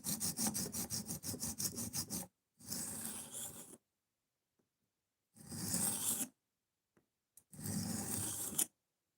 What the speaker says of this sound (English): this is what sharpening cheap knives sounds like.